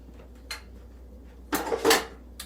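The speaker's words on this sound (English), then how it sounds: "Scrape that pan." Butter scraped out of a pan with a utensil: a couple of brief scrapes and clinks, then a louder, longer scraping burst near the end, close and alone without talk.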